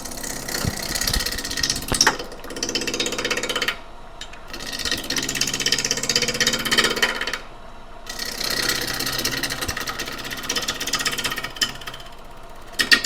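A wood lathe spins a blank of wet wood at about 1000 RPM while a tool takes light rough-shaping cuts, giving a steady loud mechanical whir with scraping bursts and two brief pauses.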